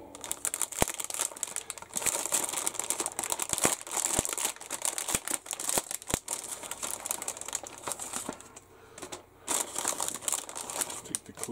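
Resealable plastic bags holding Great Wall Hobby 1/48 Su-35S Flanker E kit parts crinkle and rustle close up as the parts are handled, in irregular bursts of crackling with brief pauses.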